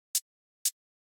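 A second hi-hat layer in an electronic track plays three crisp, bright ticks spaced about half a second apart, each short and isolated against silence.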